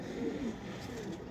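Pigeons coo softly in a coop, low murmuring calls over a faint background hum.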